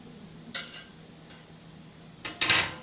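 Garlic stirred in a small pan for a cauli-beef casserole, heard as a few brief metallic scrapes and clinks of utensil on pan, separated by quiet gaps, fairly close.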